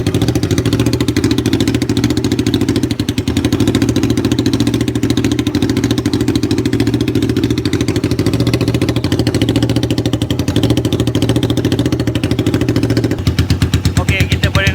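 A Kawasaki Vulcan 500 Bobber motorcycle engine runs steadily at close range with a loud, continuous low throb, shifting to a rougher, pulsing note near the end.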